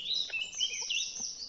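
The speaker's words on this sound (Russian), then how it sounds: "Птички нас поздравляют с уловом." Small birds chirp and trill continuously in a forest, a busy mix of high, quick calls at moderate distance with no other sounds.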